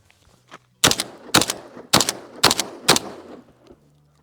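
A Savage Model 720 semi-automatic shotgun fires five loud, close blasts in quick succession, roughly half a second apart, each with a short decaying tail.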